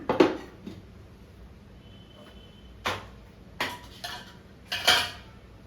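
Metal clatter as a lid is set onto a pot of cooking green gram lentils, with a sharp clink at the start and several more scattered knocks and scrapes, close and fairly quiet.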